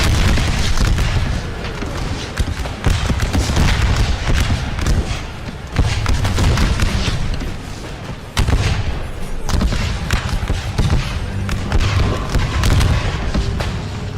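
In a Total War battle at Fredericksburg in 1862, dense booming artillery and crackling rifle volleys roll on without pause, loud and layered, with heavy thuds breaking through a constant din of gunfire.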